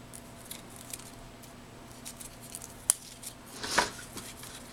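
Scissors trim sticky-backed paper for a handmade gift card holder, giving a few faint, quiet snips and rustles with one crisp cut standing out in an otherwise hushed room.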